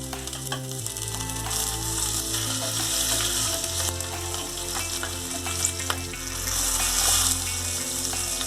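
Cumin seeds, garlic, ginger and green chili frying in hot oil, making a loud, steady sizzle that holds for the whole stretch. Occasional stirring clinks cut through it, and there is no talking.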